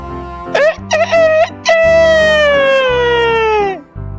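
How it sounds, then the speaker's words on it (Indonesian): A rooster crows loudly and close by, a few short rising calls and then a long drawn-out crow that fades, backed by music. "terdengarlah suara ayam berkokok."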